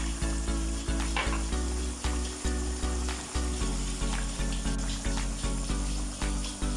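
Lemon juice hits a hot pan of white chicken karahi, bringing a steady loud sizzle and crackle with repeated scraping stirs in an even rhythm throughout.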